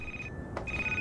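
A phone rings in the video game Crimson Snow, a steady electronic tone that breaks off briefly and then resumes, close and clear over faint background noise.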